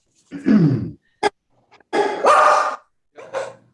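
A dog barks several times in separated, gruff bursts, loud and close, with short silent gaps between the barks during a courtroom probate hearing.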